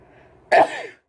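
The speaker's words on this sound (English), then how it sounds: "Sneeze." A single sharp sneeze bursts out after a brief soft lead-in, loud and close, then fades quickly.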